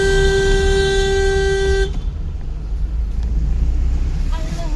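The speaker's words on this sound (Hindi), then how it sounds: "इनको हॉर्न मार बच्चों को।" A car horn gives one sustained, loud, close honk of almost two seconds while a driving lesson is under way in traffic, with road noise continuing after it.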